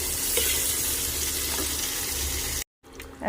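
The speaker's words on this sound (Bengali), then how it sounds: "দেখো লুচি ভাজা শুরু হয়ে গেছে" Steady, dense sizzling of luchi (puffed flatbread) frying in hot oil, fairly close, with a brief dropout near the end before the crackle resumes.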